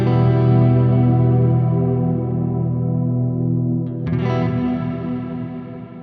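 A Chase Bliss Meris CXM 1978 reverb pedal with tank modulation raised to medium gives a loud, sustained, chorused wash of layered tones that briefly drops out and swells back near the end.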